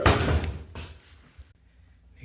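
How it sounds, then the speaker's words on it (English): A Danby refrigerator door being lifted back onto its hinges during a door reversal, making a loud thump and rattle at the start followed by a smaller knock and quieter handling noises. "Then put the door up."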